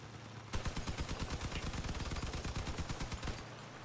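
Rapid machine gun fire from a vehicle battle in the game Crossout, a continuous loud stream of sharp shots rattling for about three seconds before stopping, with no talking.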